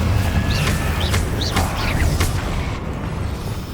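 A Confringo fire spell bursts in Hogwarts Legacy gameplay, a loud booming blast over steady game ambience with a few bird-like chirps on top, fading toward the end.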